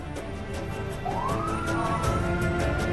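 Police car sirens escort a convoy carrying a statue of a mighty pharaoh, a rising wail that swells in over steady traffic rumble and holds loud and near to the end.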